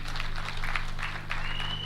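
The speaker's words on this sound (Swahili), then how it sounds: "tuwapigie makofi" An audience applauds Members of Parliament at a live Hustler Fund event with President Ruto: a dense, continuous patter of clapping over a low electrical hum, with no pauses.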